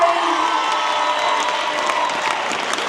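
A crowd applauds steadily at a youth panel event at Cass Tech High School in Detroit, with scattered whoops and cheers rising over the continuous clapping.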